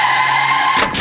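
A car in a Hindi-dubbed film scene skids to a stop with a loud, sustained tire squeal that ends abruptly just before the clip finishes.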